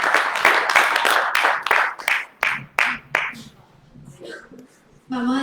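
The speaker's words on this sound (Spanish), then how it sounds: "el aplauso al Señor" A church congregation claps for the Lord, with loud, brisk clapping that thins into scattered claps and fades after about three seconds, before a voice comes in at the end.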